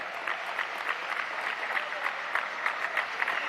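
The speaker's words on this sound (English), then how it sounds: "You can hear the applause already in their debut." Audience applause at a live Ultimate Table Tennis league match, a steady wash of many hands clapping at moderate distance, with no talk over it.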